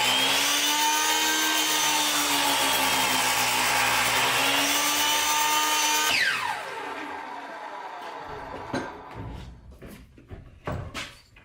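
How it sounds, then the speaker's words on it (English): A power sander runs loud and close on a wooden board with a high, steady whine, then winds down and stops partway through, followed by a few scattered knocks and handling thumps. "But I got a sander, chop it off here, put some oil on it"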